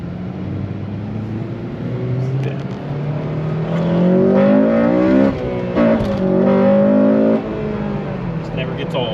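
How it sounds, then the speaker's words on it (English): A 2008 Honda Civic Si (Mugen) engine revs up hard into VTEC, pitch climbing in rising harmonic sweeps, close and loud, with a brief dip and another climb. "we're gonna hear good old VTEC"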